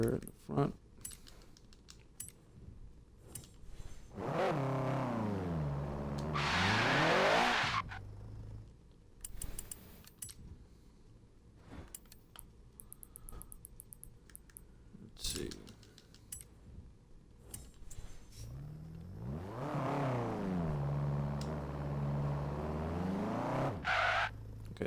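Honda Civic front-wheel-drive car in Forza Horizon 3, engine revving up in two long rising-and-falling bursts as the wheels spin, separated by quieter idle with clicking sounds in between.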